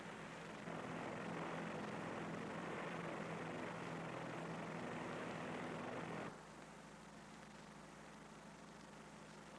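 Piston engines of a P2V Neptune patrol aircraft flying over a 1951 nuclear test area, a steady loud droning hum that drops away sharply partway through, leaving a quieter background hiss.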